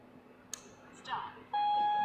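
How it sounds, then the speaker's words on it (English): A Steelmate parking sensor gives a long, steady warning tone that starts abruptly and holds clear and loud to the end, after a few faint clicks and chirps under a quiet room hum. "When he get close, will be the long beep sound for it"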